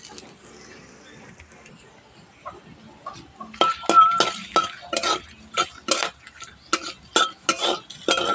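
Bay leaves and whole garam masala dropped into hot oil for tempering while cooking a parboiled-rice biryani, a faint sizzle followed by a series of sharp metallic clinks and scrapes of a utensil against the pot, spaced roughly evenly.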